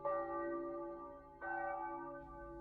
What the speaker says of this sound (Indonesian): Bunyi lonceng berdentang sangat keras, mengundang semua orang yang mendengarnya untuk segera bergegas.